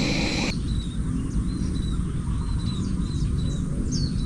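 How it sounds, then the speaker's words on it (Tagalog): Several birds chirp and call in short whistled phrases outdoors, moderately near, over a steady low rumble of background noise, with a brief louder noise burst at the start. "Itong mga tunog ng ibon na to"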